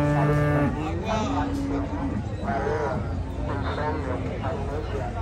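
Cows moo at a livestock market in San Rafael Cedros, several loud drawn-out bellows overlapping nearby, with people talking in the background among the cattle.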